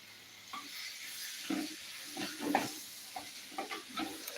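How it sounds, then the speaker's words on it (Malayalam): Tomatoes being stirred into crab curry sizzling in a clay pot, with soft scraping stirs and bursts of frying hiss at an uneven rhythm, close and moderately quiet. "തക്കാളി ഇട്ട് കൊടുത്തിട്ട് നന്നായിട്ടൊന്ന് ഇളക്കി കൊടുക്കണം"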